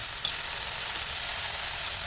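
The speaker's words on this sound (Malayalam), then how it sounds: "കറിവേപ്പിലയും കടുകൊക്കെ പൊട്ടിയതിൻ്റെ ശേഷം" Mustard seeds and curry leaves splutter in hot oil in a pan, a steady loud crackling sizzle throughout with one sharper pop near the start.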